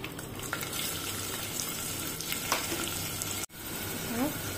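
Onion, ginger, garlic, bay leaf and slit green chillies sautéing in a pan for dal tadka, giving a steady close sizzle and crackle with occasional stirring scrapes and a brief clatter near the end.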